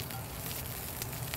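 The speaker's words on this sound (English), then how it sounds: "Now you're only going to saute this asparagus for maybe a minute or two" Asparagus sautéing in a pan, a soft, even sizzle heard close up for a brief moment.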